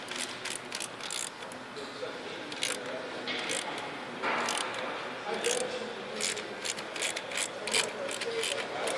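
A ratchet wrench tightening an EUI injector on a CAT 3406E diesel engine, a rapid run of sharp metallic clicks repeating close by, with talk mixed in.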